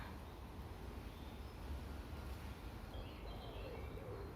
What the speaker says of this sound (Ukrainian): Ще трохи послухаємо пташок і підемо.